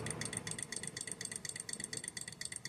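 A small Stirling engine runs slowly, close to stalling, its steady rhythmic ticking and light mechanical chuffing repeating evenly at close range with no voices.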